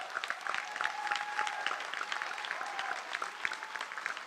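A summer high school graduation crowd claps steadily, with whistles rising above the applause, a lively sustained ovation without speech.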